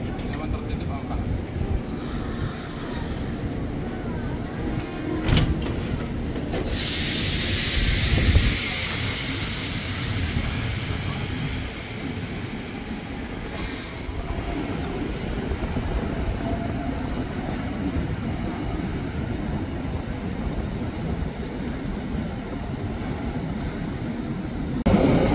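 A KRL commuter train pulls into Manggarai station in Indonesia: a steady rolling rumble with hiss and a brief brake squeal, while a platform announcement speaks over it throughout.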